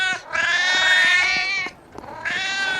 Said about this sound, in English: Those cats are just so angry.